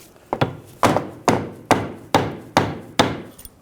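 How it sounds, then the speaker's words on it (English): Hammer tapping a socket to press a lower control arm bushing into a 2009-2017 Volkswagen Tiguan front arm, seven sharp evenly spaced metallic knocks, close and loud. "I'm just going to use a socket that just fits over the center there. Just tap it down."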